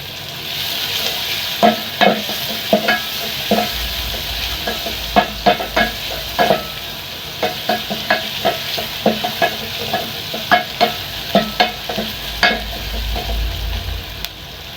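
Garlic frying in a pan, a steady loud sizzle broken by repeated rhythmic scraping and clinking stirs, close by with no speech.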